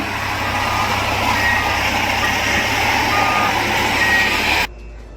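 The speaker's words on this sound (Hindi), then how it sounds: "एक थार गाड़ी को जेसीबी से कुचलवा दिया" Rapid, steady reversing beeps from a JCB excavator crushing a Thar 4x4 vehicle, ringing loud and close over a low engine rumble for several seconds, then cutting off abruptly.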